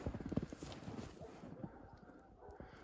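Faint hooves of a pregnant nine-year-old mare clip-clop in a quick, irregular rhythm, fading slightly as they continue, with soft wind noise in the background.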